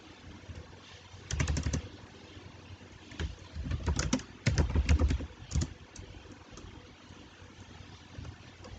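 Typing on a computer keyboard at a Windows Server 2019 command prompt, irregular bursts of clicking keystrokes with pauses between them, close and fairly quiet, with no one talking.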